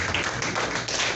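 Congregation applauding during a worship and praise service in a church, a brief burst of dense, steady clapping that fills the room.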